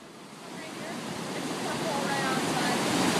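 Floodwater rushes through a river channel as a broad, steady roar of churning water that grows gradually louder, with wind buffeting the microphone.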